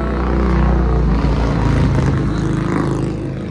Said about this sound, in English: cool bike went by